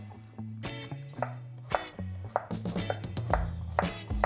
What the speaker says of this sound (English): we're going to start up by chopping our vegetables